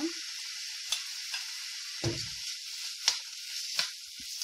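Garlic and ginger paste sizzles faintly in a hot pan, a steady soft hiss broken by a few sharp clicks and a short scraping stir.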